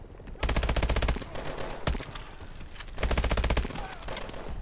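Bursts of rapid automatic gunfire in Call of Duty: Advanced Warfare, two long loud volleys separated by a sharp single crack and quieter scattered shots, close and dense.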